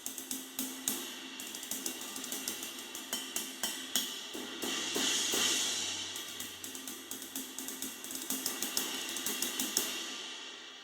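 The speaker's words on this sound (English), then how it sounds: "but it is a Byzance 24-inch Big Apple Dark Ride." Meinl Byzance 24-inch Big Apple Dark Ride cymbal in a drum kit, played in a steady, quiet jazzy ride pattern of soft repeated pings over a dark, washy, wobbling sustain, with no talking.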